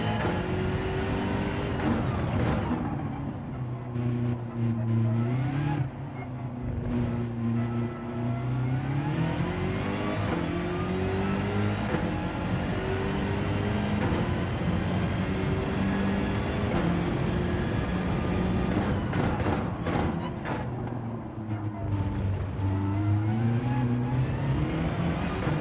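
A Toyota Supra race car engine in Gran Turismo 7 roars loudly and continuously, its pitch sweeping up through gear changes with brief drops between shifts, alongside other cars racing nearby.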